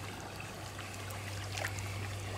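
Gentle lapping of Lake Biwa water against the shore, a soft continuous wash with faint trickles, steady and close under a low hum.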